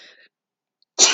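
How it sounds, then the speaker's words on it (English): A single sharp sneeze bursts out after a brief near-silence, close and fairly loud. "Try to stop sneezing, but it seems to be my thing with my sinuses in the morning."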